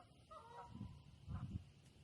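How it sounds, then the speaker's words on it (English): Geese honk while flying over a garden during work on raised beds, a few faint, distant calls in two short clusters over steady outdoor background noise. "geese are going over."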